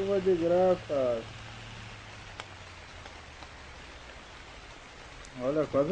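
Steady rain in the World Truck Driving Simulator game, a soft even hiss of falling drops filling the gap between bursts of a man's speech at the start and end.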